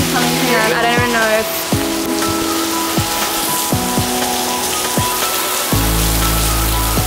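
Heavy rain pours down in the Bahamas, a dense steady wash of drumming water filling the whole scene, with a few sharp knocks and a voice briefly audible beneath it.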